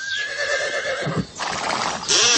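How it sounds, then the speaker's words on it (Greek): A horse neighing as a sound effect in a radio advert: a loud, close whinny with a brief clip-clop of hooves, alone with no talk. "Σου φαίνεται αυτό που μόλις άκουσες παρ άλογο"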